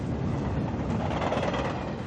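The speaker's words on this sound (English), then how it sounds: "or a train up there." A train passes in the distance, caught through a directional microphone as a steady, dense rumble without breaks, fairly loud and with no voices.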